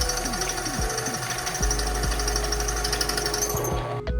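A small benchtop drill press running and boring during a rock crawler field repair, a close, loud motor hum with rattling, chattering bursts as the bit bites, cutting off at the end.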